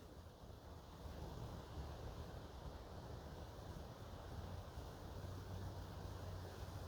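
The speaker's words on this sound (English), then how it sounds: "You just hear the wind in the trees." Wind moving through trees behind a country trail: a steady, soft, broadband rushing hiss that holds evenly throughout with no voices.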